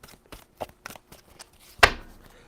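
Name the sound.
shuffling tarot cards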